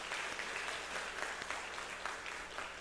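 A church congregation claps during an Easter Sunday service. The applause is steady and dense, spread through the room, and fairly faint, with no voices over it.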